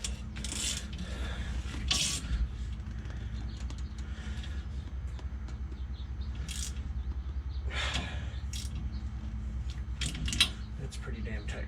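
Ratchet tightening the leaf spring bolts on a 2017 Toyota Tacoma during an overload leaf install, with short bursts of clicking ratchet strokes at intervals over a steady low background hum.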